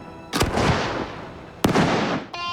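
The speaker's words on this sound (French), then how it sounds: "Le jour du feu d'artifice est arrivé." Fireworks bursting over a lake at a Sherbrooke firing site, with two loud, sharp explosions about a second apart, each followed by a long crackling, rumbling decay.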